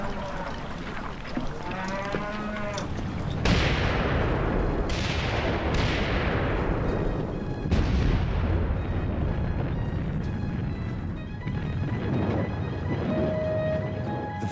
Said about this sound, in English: French shells explode incessantly in front of us.